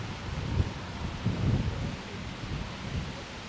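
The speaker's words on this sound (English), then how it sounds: "Oh, it is windy." Wind blows outdoors on a Paris street, giving a low, uneven rumble and buffeting that swells in gusts against the microphone. No voices are heard.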